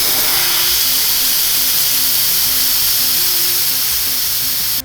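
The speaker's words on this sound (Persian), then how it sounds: "به مدت 5 الی 10 ثانیه بخار رو باز می‌کنیم" An espresso machine's steam wand purges with a loud, steady, close hiss that runs unbroken for about five seconds before cutting off abruptly at the end.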